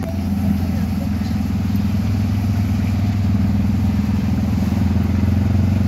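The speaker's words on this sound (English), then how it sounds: "So I just took a tuk-tuk to Mamangina Drive" A tuk-tuk three-wheeler engine runs steadily in Mombasa, Kenya, a close, constant low motor drone with a faint clatter and no pauses.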